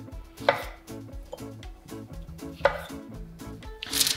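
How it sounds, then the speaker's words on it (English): A knife slices through mushrooms on a cutting board, a few distinct close cuts spaced apart, with background music playing. "I'm just gonna cut them, slice them in half"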